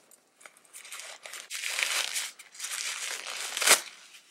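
Packing paper crinkled and pulled out of a Coach bag during an unboxing, a close run of rustling, crackling bursts that builds and ends with a sharp crunch.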